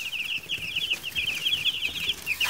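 Meat chickens cluck in a rapid, continuous stream of near, fairly loud calls over a soft barnyard background.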